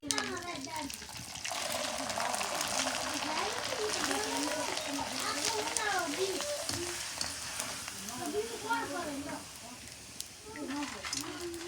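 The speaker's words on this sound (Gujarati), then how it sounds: "હવે પાપડ તળીએ છીએ" Papad fries in hot oil in a village kitchen, a constant bubbling sizzle running beneath people talking throughout.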